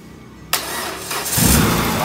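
A Peugeot 406 car engine cranks with a sharp starter burst, then catches and rises into a loud, rough idle that swells louder near the end, close up and without talk.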